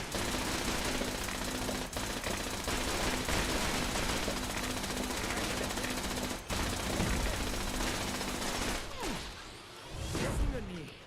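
Dense, sustained automatic gunfire in the video game Fallout 76, a loud continuous barrage with a few abrupt breaks, easing near the end into scattered impacts and whooshes; talk can be faintly heard beneath.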